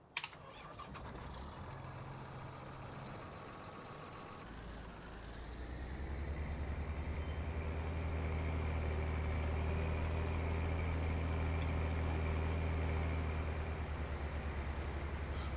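John Deere 6030 tractor engine in Farming Simulator 19: a few clicks, then the engine starts and settles into a loud, steady low idle hum that continues without talk.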